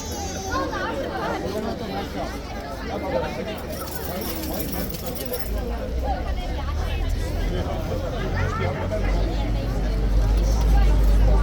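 A crowd of tourists chattering at Horse Guards in London, a steady murmur of many overlapping voices with traffic rumble rising underneath toward the end.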